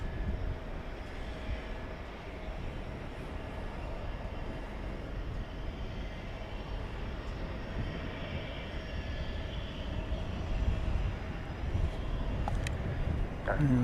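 An Airbus A321 takes off for Las Vegas, a steady broad jet engine roar heard at a distance, rising slightly toward the end.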